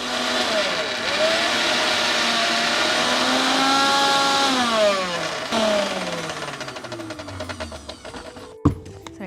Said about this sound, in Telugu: ఇది ఇంకా మనం ఇప్పుడు మిక్సీ పట్టేసుకుందాం.